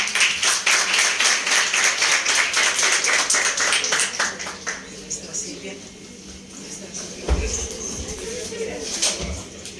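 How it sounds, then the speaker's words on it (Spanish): A crowd at a school event applauds, a dense run of rapid hand claps for several seconds that thins into scattered claps and a few taps, with voices mixed in near the end. "Un aplauso, por favor."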